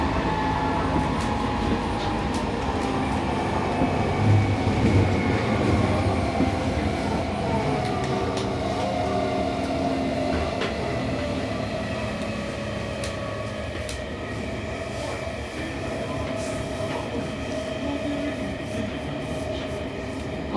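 A Seibu 6000 series train with Toshiba IGBT inverter control, running from Hanno toward Ikebukuro, heard from inside the car as a continuous rumble of wheels on track under a steady motor whine.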